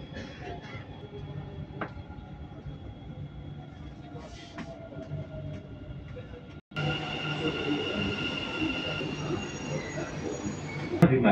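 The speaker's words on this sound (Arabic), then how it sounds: "The final destination of this train is Center Point." Dubai Metro train running between stations, a steady rumble and whine of the carriage with faint squeals, a brief drop, then louder, brighter running noise with a ringing tone; voices and announcements faintly underneath.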